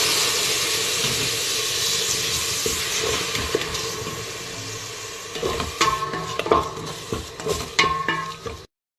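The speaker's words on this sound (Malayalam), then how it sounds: "നമുക്ക് ടൊമാറ്റോ ജ്യൂസ് ഇതിൻ്റെ അകത്തേക്ക് ആഡ് ചെയ്ത് കൊടുക്കാം." Tomato puree poured into a hot pan of spices for chicken pepper rasam, giving a steady loud sizzle and hiss that fades slightly, then clattering stirring and scraping in the last seconds.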